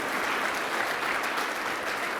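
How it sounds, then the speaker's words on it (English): A conference audience applauds for a few seconds, a dense, even wash of clapping from many hands with no pauses. "if you guys could give the boys a round of applause"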